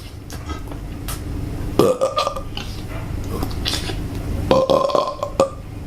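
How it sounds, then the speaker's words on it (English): A person performs two long, loud burps close up, one near the start and a second later on, each a drawn-out croaking belch, over a steady background hum. "burp, almost as big as this."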